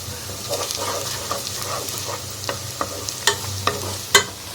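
Onions and dried red chillies frying in hot oil for a restaurant-style mutton masala curry, with a close, busy sizzle and a string of scraping stir strokes and clatters that grow sharper toward the end, with no voices.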